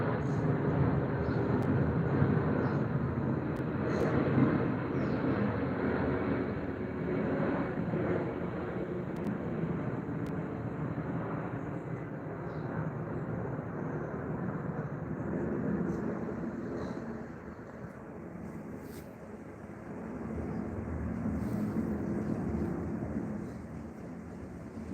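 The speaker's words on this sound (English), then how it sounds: "That is another 777 300ER." A Boeing 777-300ER airliner passes over London, a broad, steady roar of jet engines lasting the whole stretch, swelling and easing slightly with some wind buffeting.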